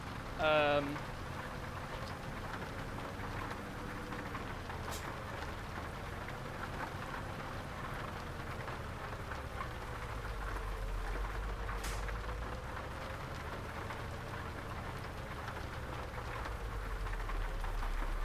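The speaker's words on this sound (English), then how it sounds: "That's very loud outside. In true English fashion. Let's get our window down here. It is raining, of course." Rain falling outside a truck cab in Euro Truck Simulator 2 in English weather, heard as a steady, fairly loud wash of patter over a low engine rumble throughout.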